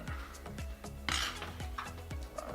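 A chef knife on a cutting board trims chicken fat, giving a regular series of soft knocks and scrapes about every half second, close and fairly quiet, with one brief brighter clatter in the middle.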